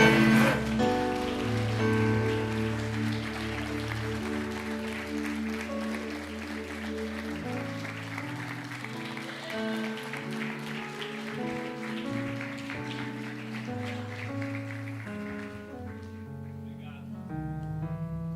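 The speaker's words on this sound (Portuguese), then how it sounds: "Você pode aplaudir o Senhor." A church congregation claps steadily throughout a sermon, the applause blending with loud sustained worship music.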